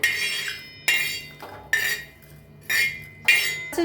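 A metal spatula scrapes and clinks against an iron tava while grated coconut is stirred and roasted, in repeated sharp strokes about every second, close and fairly loud, with no talk.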